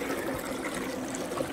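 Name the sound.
water poured into a well borehole while drilling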